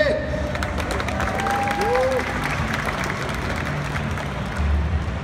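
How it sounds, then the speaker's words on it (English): A crowd at the Big Boys Toys show applauds steadily, a dense wash of clapping with some cheering, as a voice rises briefly over it during a Lamborghini Huracan unveiling. "Let's give him a big round of applause"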